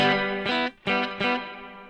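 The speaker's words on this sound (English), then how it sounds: "Now let's just try the reverb. Let's hear it." An electric guitar played through a reverb pedal rings out with a few sustained chords, each one blooming into a washy, lingering tail, with a brief gap between strikes. The instrument is heard clean and alone.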